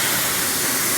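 Bigboi WASHR PRO20 pressure washer blasting traffic film, tar and grime off a car, a loud steady broadband hiss of spray filling the whole moment without a break.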